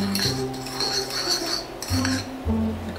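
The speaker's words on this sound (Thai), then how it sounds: "ส่วนเบกกิ้งโซดาของเรากับน้ำนะคะให้เอามาผสมกันเลย" A metal spoon clinks and scrapes against a bowl while baking soda and water are stirred for chocolate chip cookies, with a quick run of ringing taps followed by a few louder clinks, close and clear.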